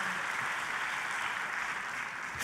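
A church congregation claps enthusiastically, a dense, even burst of many hands filling the room at full volume for the whole stretch.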